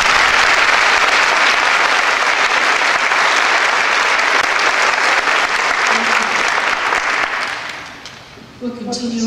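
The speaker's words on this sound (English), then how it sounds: "Let's give them a round of applause." Audience applause for the soloists at a Veterans Day evening concert, a loud, dense, sustained ovation that fills most of the stretch before tapering off near the end.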